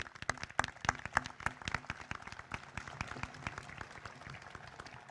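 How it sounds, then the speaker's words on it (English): Applause at a 2018 high school graduation ceremony for the graduates' parents, relatives and friends: a dense, steady crowd of clapping hands in a large hall, loud at first and then settling to an even patter. "Let's give them a round of applause."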